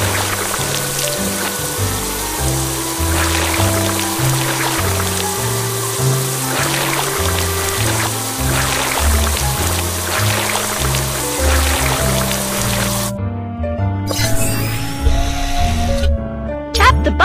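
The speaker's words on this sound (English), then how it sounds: "First, drag the water sprayer to rinse off the mud." A steady hiss of a water sprayer rinses mud off a school bus at a cartoon car wash in the Little Panda: School Bus game, running for about thirteen seconds under bouncy background music before cutting off.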